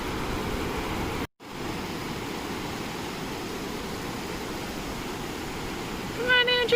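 Ocean surf rolls in steadily at a beach in Tofino, a broad continuous roar of breaking waves that briefly cuts out once, with faint voices near the end.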